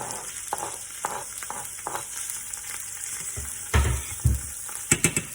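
Food sizzling in browned butter in a frying pan for a boxed mac and cheese dish: a steady close crackle, stirring scrapes, and a few louder bursts near the end as pieces hit the hot fat, with no talking.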